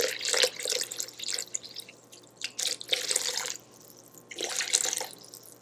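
Just under 300 grams of water poured into a bowl for einkorn sourdough bread dough, a splashing, trickling pour in uneven bursts, close and fairly loud, with no talking.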